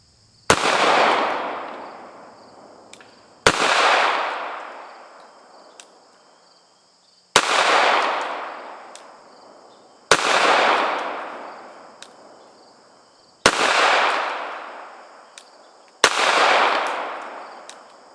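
H&K 45 pistol fired at a shooting range: six loud, sharp shots spaced a few seconds apart, each followed by a long ringing echo that fades before the next.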